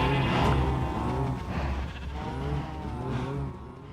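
Sheep bleat in the Minecraft video game, several wavering bleats rising and falling over a few seconds amid a dense bed of game noise, fairly close and moderately loud.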